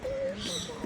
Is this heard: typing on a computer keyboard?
no